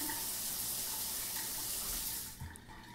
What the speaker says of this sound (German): Mal kurz im Dunkeln duschen.